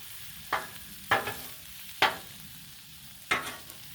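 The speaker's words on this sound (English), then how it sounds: "You see what happens to spinach when it's cooking." Spinach cooks on a Blackstone griddle under a soft background sizzle. Four sharp scraping bursts from a spatula stand out at about one-second intervals. No one talks.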